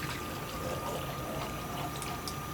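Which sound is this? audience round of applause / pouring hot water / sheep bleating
pouring hot water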